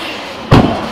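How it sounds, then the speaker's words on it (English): At a Surrey car meet, a loud performance car leaves with a sudden close burst of engine noise halfway through, a sharp rasping surge that then holds as a rougher, fading growl. "focus purely on cars leaving and the noise coming from them"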